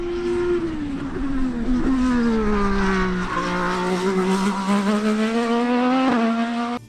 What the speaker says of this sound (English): IndyCars, like F1 cars, use a high-revving turbo V6.